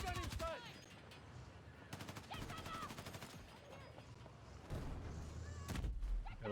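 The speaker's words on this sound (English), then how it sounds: "A light machine gun on it." Light machine gun fire in the video game Battlefield 6, rapid rattling bursts near and far under shouted in-game voices, with thumps and a louder close burst near the end.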